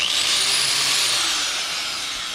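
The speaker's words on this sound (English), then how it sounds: "I'm using a real aggressive flapper wheel. It's a 40 grit." An aggressive 40 grit flap wheel on an angle grinder grinds metal on a beach buggy build, making a loud, close, continuous high-pitched whine that sags slightly in pitch as it bears down.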